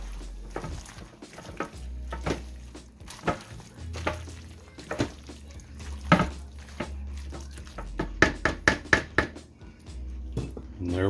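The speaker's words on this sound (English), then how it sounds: "So I'm just going to mix all that together." Ingredients for a cowboy country casserole being stirred together in a dish, with repeated scraping and clacking of a spoon against the bowl, loud and close, building to a quick run of sharp knocks near the end.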